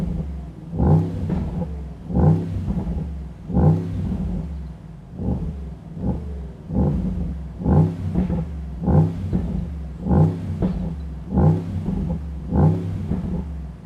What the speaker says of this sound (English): The engine is already on, the set in Sport Plus.